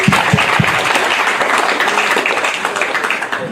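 Applause from a summit audience honoring a professor, dense steady clapping filling the room, fairly loud and sustained throughout with a few sharper claps near the start.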